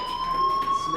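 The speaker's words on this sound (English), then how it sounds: "do you hear that fire alarm?" A steady high-pitched fire alarm tone drones without a break in the video game Life Is Strange, loud and constant with no talking over it.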